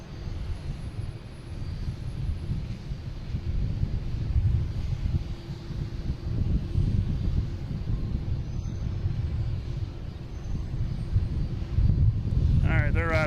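An airliner departing Boston Logan airport roars in a broad, steady low rumble for the whole stretch, heavy and fairly close, swelling slightly at the very end as a voice briefly comes in.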